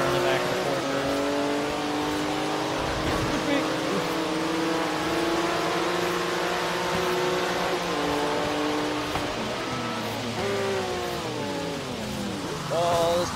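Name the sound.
Porsche 911 Turbo S car driving in Forza video game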